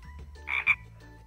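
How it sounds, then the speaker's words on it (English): Frog croaks in a nursery class setting, two short rasping calls close together, fairly loud and close, over a quiet room with no talking. "Can you rib it like a frog?"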